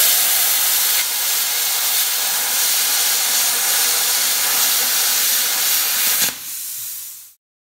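A Hypertherm 30 XP plasma cutter slowly cutting 80CrV2 knife steel, a loud steady hiss of the arc and air that runs for about six seconds, drops briefly, then cuts off abruptly.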